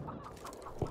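Chickens cluck softly in the video game Hunt: Showdown, with short low clucks over a steady ambient bed.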